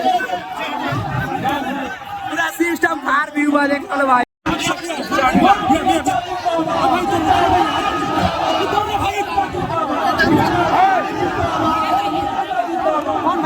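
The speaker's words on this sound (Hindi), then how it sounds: "देख लो भाई भीड़ देख लो खेसारी भैया के उत्सव में देख लो" A packed crowd at a Khesari Lal Yadav celebration event, with a dense, steady babble of many voices chattering nearby and someone talking over the din.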